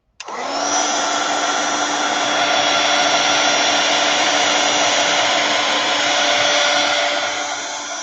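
A hair dryer runs steadily at close range, blowing over wet paint on a craft project, with a constant loud whirring drone from start to finish and no talking.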